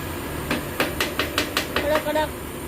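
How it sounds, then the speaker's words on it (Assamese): Repeated sharp chopping strikes, about nine in a steady uneven rhythm, close and fairly loud over a quiet room, with faint voices in the background. "কাটি দি আছোঁ।"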